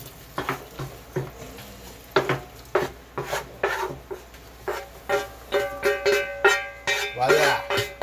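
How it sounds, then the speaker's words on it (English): Ground beef in a pan has its grease drained off, giving a series of repeated scraping, clinking and rasping strokes of utensil against cookware, fairly close and steady, with sizzle-like hiss between them. "we're going to drain this ground beef here"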